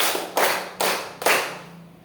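Four sharp hand claps at a slow, even pace, close and fairly loud, each ringing out briefly in a room.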